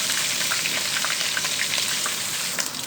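Ginger garlic paste frying for chicken korma, a dense, even hiss and crackle close up, steady for about three seconds, with no one talking over it.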